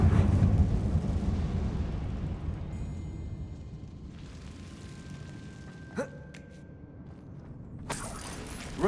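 A Confringo fire spell bursts in Hogwarts Legacy with a roaring, crackling blast that fades over several seconds, then a sharp smaller crack and a final bright burst near the end.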